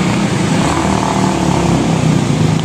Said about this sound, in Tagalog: Hirap na hirap yung motor, oh.